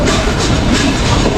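The Ooty toy train running toward Mettupalayam railway station, a loud steady rumble of wheels on rails with a faint repeating clickety-clack and no voices.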